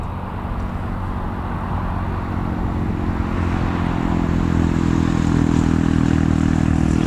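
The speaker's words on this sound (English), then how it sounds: "can just hear the engines now starting up." Aircraft engines starting up at Newcastle Airport, a distant broad roar with a low droning hum that gradually swells and steadies as the engines spool up, with no talk.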